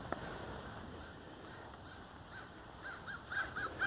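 Birds call in the distance along a quiet residential street of houses with terraces in the USA, a few faint squawks rising near the end over steady outdoor ambience.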